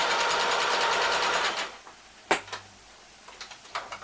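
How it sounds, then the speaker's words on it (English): A sewing machine stitches a straight seam on fabric for a fitted crib cover, running steadily and fairly close for about a second and a half, then stopping, followed by a few soft clicks and handling taps. "I'm just going to stitch all the way down this side."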